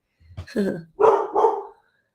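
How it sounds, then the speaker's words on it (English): A dog barks a few times in quick succession, close and fairly loud, with no one talking over it. "my dog's barking"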